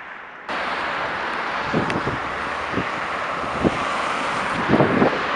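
Steady wind buffeting the microphone, a broad rumbling roar with a few brief gusty thumps, no voices.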